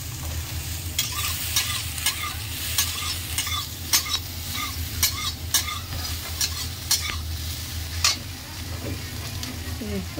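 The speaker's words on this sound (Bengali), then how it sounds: "দেখুন সয়াবিনটা আমার ভাজা হয়ে গেছে।" Soybean chunks fry in hot oil with a constant dense sizzle, punctuated by regular scraping strokes of a spatula stirring the pan.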